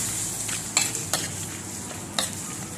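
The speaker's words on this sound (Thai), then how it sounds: "เราเอาไข่แดงไข่เค็มลงไปผัดแล้วนะคะ" Salted egg yolk stir-fried with cooked squid in a pan gives a steady close sizzle, broken by a few sharp scrapes of a spatula against the pan.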